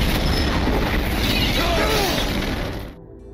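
A big action-film explosion roars with a dense, sustained rumbling blast and crackling debris, then cuts off abruptly to quiet near the end.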